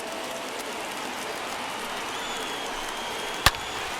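A baseball stadium crowd of more than 27,000 rises to its feet at a tied game, a broad steady roar of cheering and murmur held at an even level throughout, with one sharp crack near the end.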